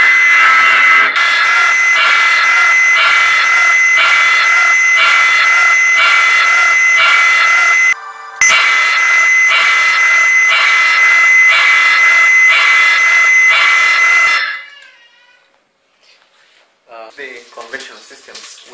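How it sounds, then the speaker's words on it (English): A loud, piercing custom-made electronic security alarm siren wails continuously with a pulsing pattern, cuts out briefly, resumes, then stops, leaving faint warbling tones afterward. "sounds a very unique custom-made siren. For instance, the siren sounds."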